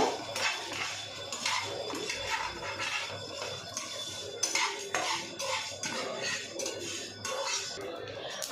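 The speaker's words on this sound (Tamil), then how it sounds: "இது ட்ரை ரோஸ்ட் பண்ணுங்க" Dry spices, including cardamom, cloves and coriander, rattle and scrape in a pan as a utensil stirs them continuously while dry roasting, a busy, close clatter of metal on metal.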